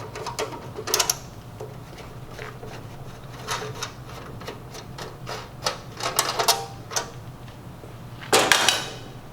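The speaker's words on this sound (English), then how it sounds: "remove the 5 Phillips screws on the bottom cover and remove the cover" Small clicks, ticks and ratcheting taps from removing Phillips screws from the bottom cover of a Star 2-sided commercial grill, scattered irregularly over a quiet background with a sharper burst near the end.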